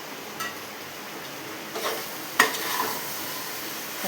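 Chopped tomatoes fry in a pan for a simple biryani, with a soft continuous sizzle and a few sharp scraping clicks from a stirring utensil, close and fairly quiet.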